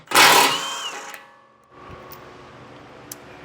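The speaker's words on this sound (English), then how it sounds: "I'm going to take a 15mm socket, completely remove these top 2." A 15mm socket works the belly pan bolts on a 2022 Ford Ranger, giving a loud, close burst of mechanical clicking and rattling that fades after about a second into faint low background noise with one small tick.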